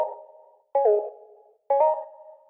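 Deep house synthesizer bass notes repeat in a steady pattern, each one starting with a pitch glide that swoops into place and then sustains and fades. The notes sound clean and isolated, with nothing else playing.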